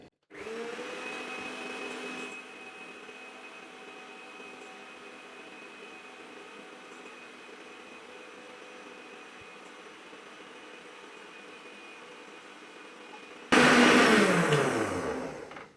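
An electric beater whirs steadily as it whisks eggs and sugar for an orange cake. The hum steps down in pitch after a couple of seconds and runs on evenly, then a louder, harsher whine surges near the end.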